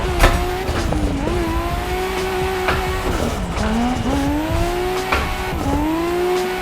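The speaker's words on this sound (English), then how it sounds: "it sounds good, it looks good, it feels really, really good. And it's a freaking Nissan Skyline R34 sedan" A Nissan Skyline R34 sedan's engine revs and whines through repeated gear shifts as tires squeal and skid while drifting, loud and close, in the racing game Assetto Corsa.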